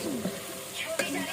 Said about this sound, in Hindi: बस अब मैं ये दही भूनूंगी अच्छे से